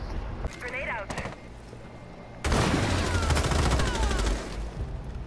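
Rapid automatic gunfire from Rainbow Six Siege bursts loud and close for about two seconds, following quieter in-game effects and voices earlier.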